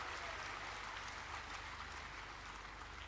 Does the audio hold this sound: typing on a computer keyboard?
no